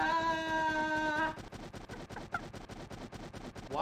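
Rapid gunfire in an N64 multiplayer shooter, a steady run of sharp repeated shots following a sustained tonal game sound, loud and close with no talk over it.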